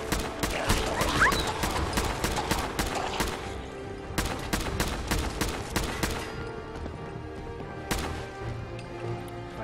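Gunfire in the video game Fallout 4, a fast burst of rapid sharp shots that thins into scattered single cracks with short pauses between them.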